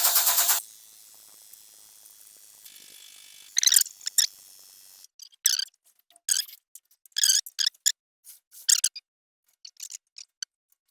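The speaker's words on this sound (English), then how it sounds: "We have an air-operated lift right here, so that noise is what is lifting this up." An air-operated engine hoist raising a Ford 302 engine for a Bronco opens with a loud burst, then a faint steady hiss, followed by bursts of sharp rapid clattering pulses separated by short pauses.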